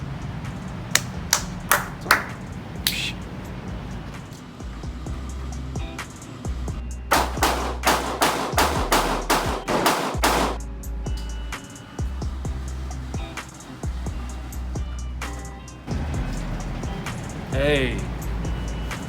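Gunshots from an M&P 9 Shield EZ pistol at a shooting range ring out as sharp, loud reports, some in quick bursts and others spaced apart, with people talking throughout.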